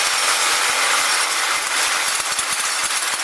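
Old suspension bushings being knocked and sawn out of a Toyota Corolla FX16 race car, a loud, continuous rasping grind with rapid, irregular metallic knocks running throughout.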